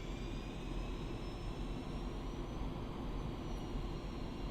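Su-25T jet engines run steadily in a flight simulator game, a constant whining roar with a smooth low rumble, held at an even level with no talking.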